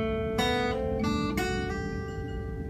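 A short fingerpicked slack-key acoustic guitar melody, a few bright plucked notes ringing out and decaying, played alone and fairly close.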